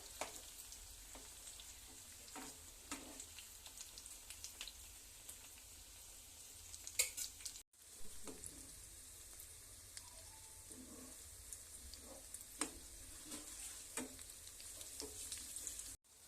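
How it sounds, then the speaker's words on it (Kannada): Paneer kofta balls fry in hot oil in a pan, a steady soft sizzle with small crackles and occasional stirring, fairly quiet, with a brief cut partway through. "ನೋಡ್ರಿ ಫ್ರೈ ಮಾಡ್ತಾ ಇದ್ದೀನಿ ಪನ್ನೀರ್ ಕುಸ್ತಾ"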